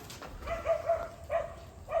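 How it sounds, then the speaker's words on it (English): Distant dogs barking outside a fence at an abandoned textile mill in Rhode Island, a few faint, short yips and barks spread over two seconds. "I thought a pack of wild dogs was coming for us"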